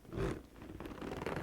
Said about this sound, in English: It's a nice big zipper.